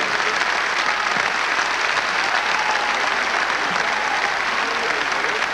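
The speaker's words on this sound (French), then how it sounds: "Tous les applaudissements du public et de son adversaire malheureux" Crowd applauds the 1996 Australian Open men's singles champion at the trophy ceremony, steady sustained clapping from a large stadium audience, with faint talk underneath.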